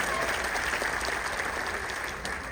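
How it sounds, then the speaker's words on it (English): Audience applause after a stand-up comedy show aboard the Celebrity Reflection cruise ship, a dense steady clapping from a crowd that slowly thins toward the end. "Give her a round of applause"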